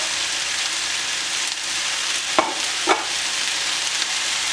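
Blood sausage frying with apples and onion in a pan gives a steady, close sizzle throughout, with a couple of brief stirring scrapes partway through.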